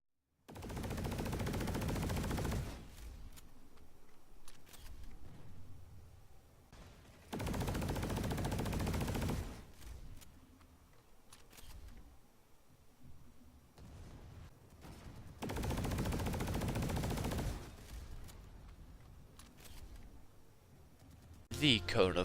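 Serpent VE92 carbine hipfire in the Planetside 2 video game, fitted with a laser sight, firing in three long loud automatic bursts separated by quieter gaps.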